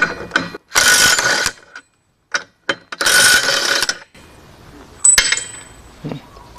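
An impact wrench with a black socket loosens a nut, sounding as two loud, close mechanical bursts of rattling, with quieter clicks and handling noises between them and a faint metallic clink near the end.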